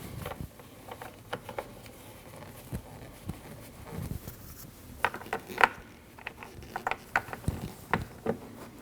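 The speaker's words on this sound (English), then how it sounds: "Now install your 2 8mm bolts." A ratchet clicks in short bursts while two 8mm bolts are driven in and snugged down on a 2013-2019 Ford Escape rear bumper impact absorber, the quiet pawl ticks coming close and repeated.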